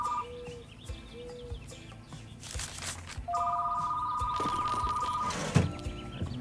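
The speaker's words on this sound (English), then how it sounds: "Let me grab that phone call." A telephone rings inside the video game Retro Rewind: a steady electronic ring tone holds for about two seconds over quiet game ambience, preceded by a few short, softer beeps.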